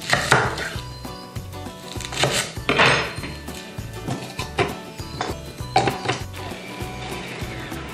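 A Kenwood food processor chops celery and onion for coleslaw in a series of loud, choppy mechanical bursts and clatters, close and uneven in rhythm, with no talking.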